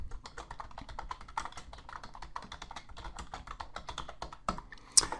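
Typing on a computer keyboard at an office desk: a quick, uneven run of light close key clicks over several seconds, ending with one sharper keystroke.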